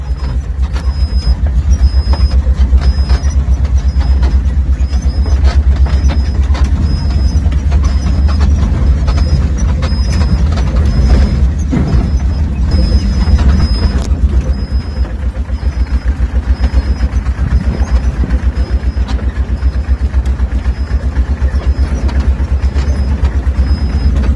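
Continuous engine drone of a vehicle running in second gear, a steady low rumble with rattling and a faint periodic high beep repeating throughout, no voices.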